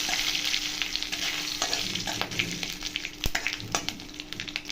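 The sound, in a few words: frying whole spices and curry leaves in oil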